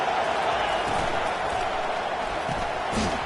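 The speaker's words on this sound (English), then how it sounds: "This crowd bringing the energy and noise early." Steady roar of a crowd at a football game, a broad continuous wash of cheering and chatter that stays loud and even throughout with no single voice standing out.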